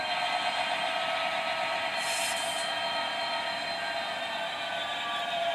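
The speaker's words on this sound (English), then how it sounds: "Obviously, being digital, the train is going to stop realistically." A steady electric-motor whine and whir of a Bachmann Class 66 model train locomotive running continuously on DCC digital control, with a brief hiss partway through and no talking.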